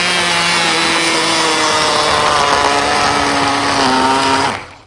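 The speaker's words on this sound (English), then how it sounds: "And once again, put the whizzer in there." A hand blender whirs through melted chocolate in a pot, a loud, steady motor whine holding for several seconds before spinning down at the end.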